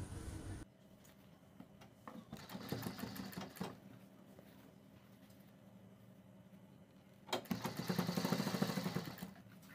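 Sewing machine stitching around a kurti neckline in two close, loud bursts of rapid clattering whir, separated by a quieter stretch of faint handling.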